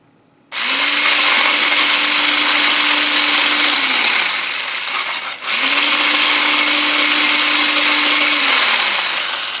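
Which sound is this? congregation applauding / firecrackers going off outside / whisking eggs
whisking eggs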